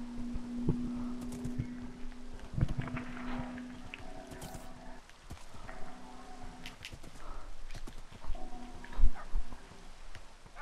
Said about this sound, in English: This horse is this horse is freaking out.